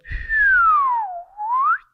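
A person whistles in imitation of a slide whistle, one smooth tone gliding downward, briefly breaking, then sliding back up, close and clear after a short low rumble at the start.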